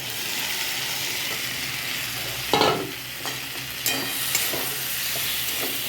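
Pre-fried prawns stirred into a simmering okra curry, giving a steady close sizzle broken by a few sharp spatula scrapes and knocks against the pan, with no talking.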